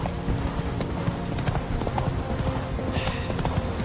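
Roach, a horse in The Witcher 3, trots with rapid, continuous clip-clopping hooves, close and fairly loud over a busy game soundscape.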